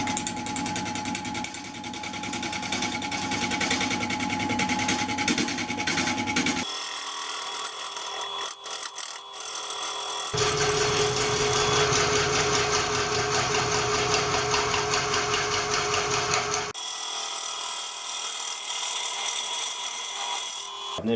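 A wood lathe turns a large lacewood platter while a tool scrapes and rasps at the spinning wood, producing continuous rough shaving and rubbing noise with motor hum that shifts as cuts start and stop, with no talking.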